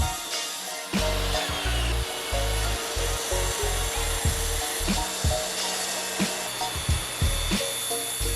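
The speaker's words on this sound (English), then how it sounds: "I then cut one of the pieces vertically with my track saw and reciprocating saw" A track saw rips through a walnut slab for a DIY desk, giving a loud continuous sawing roar with repeated short breaks and restarts over several seconds.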